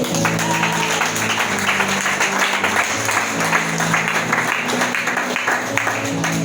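Church congregation applauding during a French-language sermon, steady dense clapping filling the space over sustained music or organ-like tones, continuous and loud throughout.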